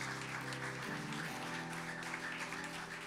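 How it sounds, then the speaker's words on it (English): Audience in a church clapping steadily for a few seconds, a dense, even round of applause filling the room. "let's hear a round of applause"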